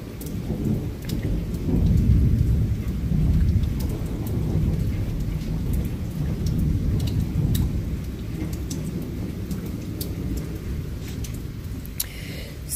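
Night thunderstorm in a screened patio area, steady heavy rain with deep rolling thunder swelling and fading across the whole stretch, close and loud, no talking.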